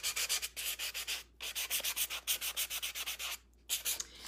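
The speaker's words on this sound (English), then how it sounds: "I'm taking a sanding block. And I'm gonna sand a bunch" Rapid rhythmic rasping strokes of a sanding block rubbing on a clay pot to age it, close up, with two brief pauses between runs of strokes.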